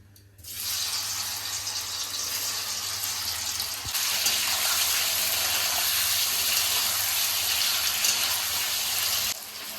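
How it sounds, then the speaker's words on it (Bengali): Paneer pieces frying in hot oil for a paneer and potato biryani, a steady loud sizzling hiss that surges slightly partway through and runs unbroken for about ten seconds, with no talking. "এবার পনিরটা ভেজে নেব।"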